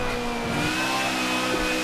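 A Polaris RZR side-by-side in the racing game Forza Motorsport 7 drones loudly and steadily, its engine note holding a sustained rev throughout with no talk over it.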